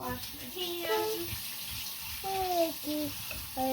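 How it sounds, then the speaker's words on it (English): Water runs from a tap while hands are washed in a kitchen, a steady gush heard under nearby talk and light clatter. "Wash my hands."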